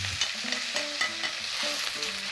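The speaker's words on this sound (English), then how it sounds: "We're going to fry it together for a little bit." Wide chow fun rice noodles frying in a hot wok for beef chow fun, a close sizzling hiss with quick rhythmic scraping and clinking of a utensil tossing the noodles, no talking.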